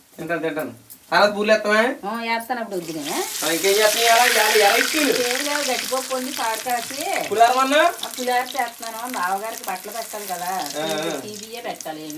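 Boorelu and garelu sizzle in hot oil, a soft frying hiss that swells mid-way beneath almost constant chatty conversation between several voices.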